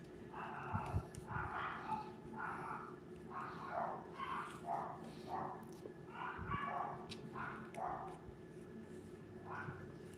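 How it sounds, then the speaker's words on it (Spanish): Neighbour's dogs bark and yip repeatedly in short bursts at a distance, a persistent rhythmic background of faint barks under a steady room hum. "Pero todo el día ladran."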